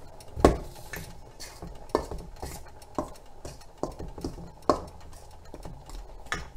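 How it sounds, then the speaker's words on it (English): A utensil stirs rice in a pot while vegan dumplings with soy curls cook, giving repeated scraping clinks against the pot at an irregular pace, close and fairly quiet. "I'm going to keep stirring because I don't want my rice to get stuck at the bottom"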